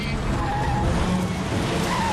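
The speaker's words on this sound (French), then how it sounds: "Il écrase la pédale de frein." A bus brakes hard on a road buckling during the Kobe earthquake, a continuous loud rushing, grinding skid with a harsh scraping texture throughout and no voices.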